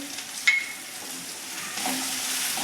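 Garam masala and chilli spice mix cooking in a pan for Kathiyawadi garlic potatoes, a soft continuous sizzle with a brief clink of a utensil near the start and a slight rise later.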